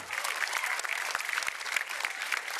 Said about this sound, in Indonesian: Kita beri tepuk tangan yang meriah untuk Inyoman Adiferi.